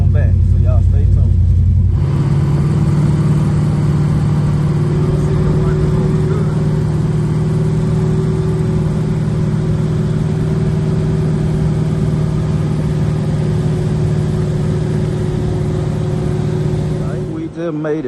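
Supercharged G-body car cruising on the street, a loud, steady engine drone with deep rumble that holds close and constant for most of the stretch before cutting off.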